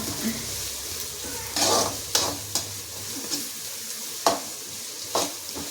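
Onions frying in a pan for chicken kuzhambu, stirred with a spatula: soft steady sizzle with a handful of distinct scraping strokes and taps, close by.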